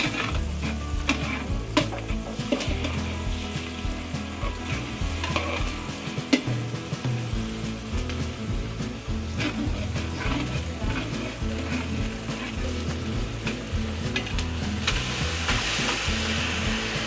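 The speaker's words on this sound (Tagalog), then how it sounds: "nagpapabango na uli ng sibuyas at bawang at iuhulog ng isa pa uling apretada" Onion and garlic sizzling in a pan for afritada cooked countryside-style in Batangas, a continuous frying hiss with stirring scrapes and occasional clinks of utensils against the pan, with faint talk at times.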